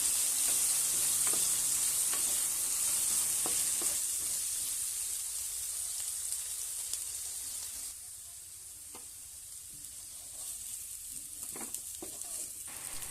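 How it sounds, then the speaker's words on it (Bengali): Potato pieces with a little turmeric frying in hot oil for a morola and puti small-fish curry, a steady loud sizzle with occasional stirring clicks, easing slightly toward the end. "আলুটা ভাজা হয়ে গেছে, এবার নামিয়ে নিলাম।"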